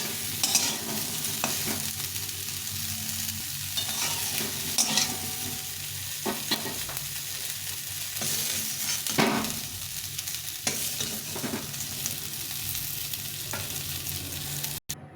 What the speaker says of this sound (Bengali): ফুলকপিটা ভাজা হয়ে গেছে একটু হলুদ আর লবণ দিয়ে ভেজে এসেছি ফুলকপিটাকে এটা এখন উঠে নেব